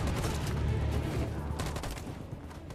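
Dense gunfire fills a Detroit: Become Human battle scene, a steady roar of overlapping shots and bursts with sharp cracks clustered near the middle and end, continuous and loud throughout.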